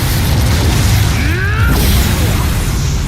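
A fire spell cast in the video game Hogwarts Legacy: a loud, continuous roaring burst with low booming rumble and a brief swooshing sweep, heard alone amid dense game effects.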